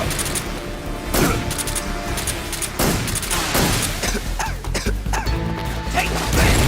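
Sharp blasts and crashes from combat in Metal Gear Solid 3, a grenade explosion among several loud impacts and bursts arriving in an irregular rhythm over continuous game noise.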